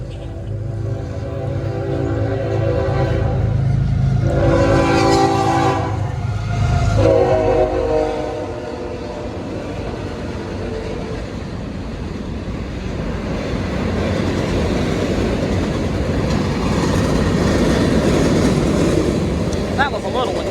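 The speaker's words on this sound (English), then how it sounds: "I hear another train." A train passes through Lake City, South Carolina, its horn sounding in a few long blasts early on, then a steady rolling rumble of cars that keeps going. People talk over the opening stretch.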